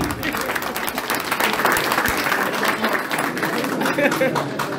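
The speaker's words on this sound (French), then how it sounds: "Applaudissez" A crowd applauds at the inauguration of a karate dojo in Karthiack, Casamance, with dense, continuous clapping and voices in the mix.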